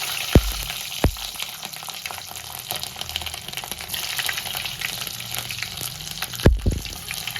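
Mustard seeds, cumin, fenugreek and garlic crackle and sizzle in hot oil, a steady broadband hiss with a few sharp pops near the start and end, close and fairly loud, no voices.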